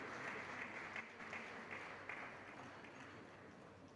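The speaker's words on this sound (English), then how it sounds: "Can we have a huge round of applause as we welcome them on the stage" Audience applause at a Founder's Day stage event as guests are welcomed, a steady wash of clapping from a crowd heard at moderate distance for the whole stretch, without talk over it.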